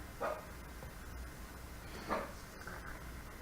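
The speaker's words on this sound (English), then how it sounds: "I have to get my dog to be quiet." A dog barks twice in short, separate bursts, fairly faint against a steady indoor background hum.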